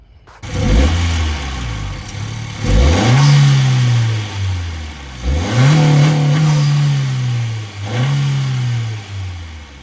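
A 2022 Honda Civic Si with a PRL Stage 1 intake revs hard several times, each sweep climbing then dropping back, loud and close, with an intake roar over a low idle.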